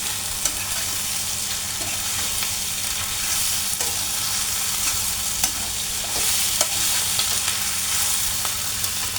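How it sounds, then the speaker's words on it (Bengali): Blackened taro flowers being stir-fried in masala give a continuous sizzle with frequent scraping stirs of the spatula, close and steady, with no talking. "তো এটাকে আমি ভালো করে এখন মশলার মধ্যে কষিয়ে নেব।"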